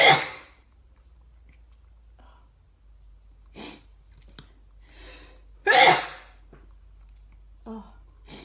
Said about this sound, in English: Slow motion sneeze.